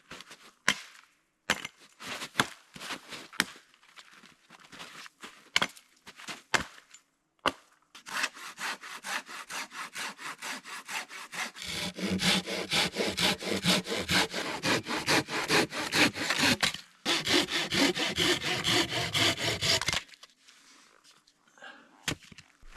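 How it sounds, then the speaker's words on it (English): Wood being processed for a campfire at a winter survival shelter: sharp scattered chops and splintering knocks, then a long run of steady rhythmic saw strokes rasping through timber, close and loud, ending in a few light knocks. "I've processed enough wood for now."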